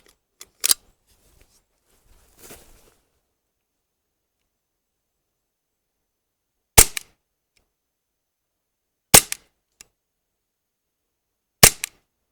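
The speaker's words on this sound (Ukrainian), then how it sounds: "Спочатку відстріляю 3 в хронограф" A CO2-powered 4.5mm air pistol fires pellets through a chronograph in sharp, dry cracks, four distinct shots spaced several seconds apart with a faint click between, otherwise silent.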